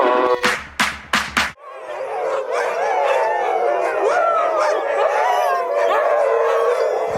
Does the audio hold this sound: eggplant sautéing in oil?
no